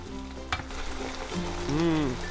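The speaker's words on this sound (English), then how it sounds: "Listen to that sizzle." Gravy sizzles steadily while frying in a pan with some stirring scrapes, a continuous close crackle that swells slightly toward the end.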